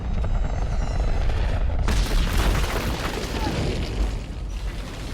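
A sudden loud missile explosion in a Captain America film bursts out over a mechanical drone, followed by a long rumbling roar and crackling debris that slowly fades.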